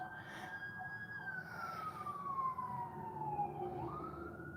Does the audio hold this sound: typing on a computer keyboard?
no